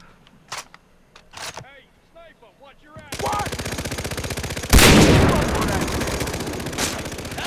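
Video game gunfire from Far Cry 3 during a firefight with an armored boss: a few isolated shots early, then a sustained dense burst of automatic fire with a loud blast midway, running continuously to the end.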